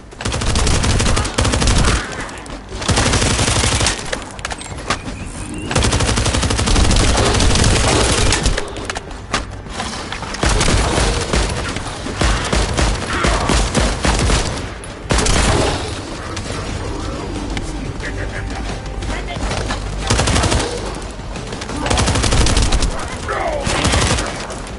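Loud bursts of rapid gunfire and booming blasts in the video game The First Descendant fill the scene almost nonstop, with brief lulls between heavy volleys.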